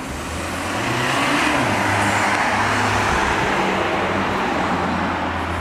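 Supercar accelerating at full throttle through town in Knokke, a loud, rising engine roar that swells quickly and holds strong, heard close with rumbling road noise.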